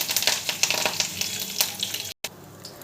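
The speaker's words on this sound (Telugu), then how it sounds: "తాలింపు గింజలు వేసుకున్నానండి." Tempering seeds crackle and sizzle in two spoons of hot oil, a busy popping fry close by with sharp spits, a momentary dropout, then continued sizzling with no talk.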